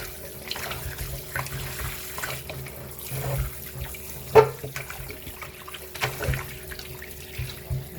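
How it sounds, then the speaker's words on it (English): Pork is washed under a running tap, water streaming steadily into a sink with light splashing and one brief louder knock partway through. "the first thing we want to wash up your pork real good"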